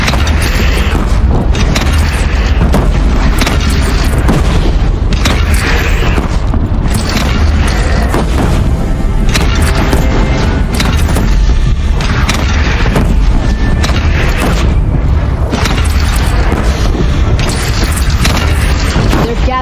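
Cannon fire in the video game Horizon Zero Dawn booms heavily through a dense, loud battle soundscape, with continuous rumbling blasts and impacts and character voices talking over it.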